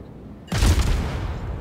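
Warship guns fire in the naval video game World of Warships, a sudden loud booming salvo bursting out of silence and rolling into a rumbling, crackling decay.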